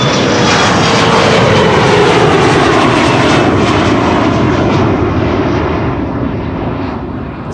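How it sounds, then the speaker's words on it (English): A Boeing 747 jet airliner takes off from runway 36L at Amsterdam Schiphol on a windy day: a loud, continuous engine roar that holds steady and then begins to fade as it climbs away. "The 747 that we saw take off just now."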